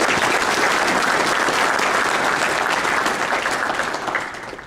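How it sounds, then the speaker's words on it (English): Audience applause at an awards banquet honoring a high school football coaches' association Woman of the Year, a dense, steady wash of many hands clapping that fades slightly toward the end, with no talking over it. "please, a round of applause and congratulating Roberta."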